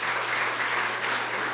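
Audience at a Pacifica city council meeting applauding steadily throughout, a dense, even patter of many hands with no pauses.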